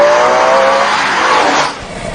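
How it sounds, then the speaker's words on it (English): Ferrari 612 Scaglietti V12 engine, loud and smooth with a strong high-pitched roar that holds steady, then drops off sharply near the end as the car pulls away, no talking. "It's a V12, it's super smooth, it's got bundles of power"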